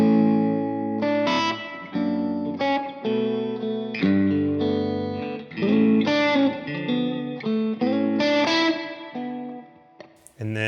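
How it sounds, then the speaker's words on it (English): Electric guitar played through a hall reverb setting on a pedal: sustained chords and melodic notes ring out with long, spacious decaying tails, loud and close, alone without voices. "I have like more of a hall reverb."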